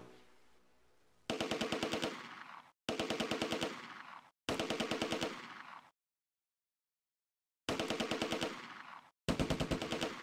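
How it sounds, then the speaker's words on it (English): Video game gunfire in Close Combat A Bridge Too Far: sharp, rhythmic machine-gun bursts in five separate strings of rapid shots, loud and close, broken by a silent gap, with no voices. "He starts taking fire from a Schützen squad opposite and targets them instead"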